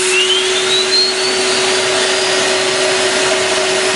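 A car turbocharger whines loudly as it builds boost, a high whistle rising in pitch and then holding steady over a constant roaring engine and air rush.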